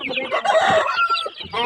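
Backyard farm chickens cluck and call repeatedly at close range, a dense, busy flock chatter with a brief rooster-like crow mixed in and no talking.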